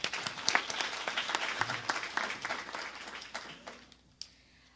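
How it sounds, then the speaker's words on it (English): Applause from an audience at a breakfast meeting, a steady burst of many hands clapping at moderate volume that thins out and fades near the end. "So let's give a big applause to our staff and our board."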